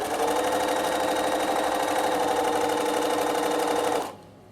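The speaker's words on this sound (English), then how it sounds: "Just top stitch that down, and I'll do a corner for you." Sewing machine running steadily while top stitching fabric: a close, continuous whirring buzz at an even pace that stops abruptly near the end.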